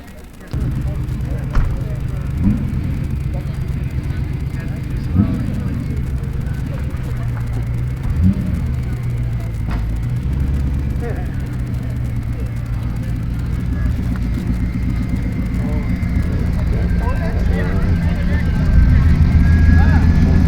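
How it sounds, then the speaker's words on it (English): A car engine idles and revs at an outdoor car show, a steady loud rumble with a few throttle blips and a louder surge near the end, heard under background crowd noise. "He's like revving the engine"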